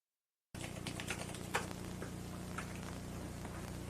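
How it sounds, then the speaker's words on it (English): Fast, furious typing on an early-1990s word processor keyboard, close and continuous clacking with a few sharper key strikes, starting abruptly after a short silence. "he is furiously typing away at his word processor"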